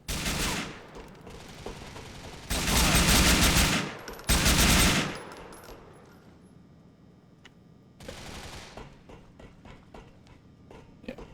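Rapid bursts of AK rifle fire in GTA IV, with several loud sustained volleys separated by quieter stretches, then a softer trailing burst.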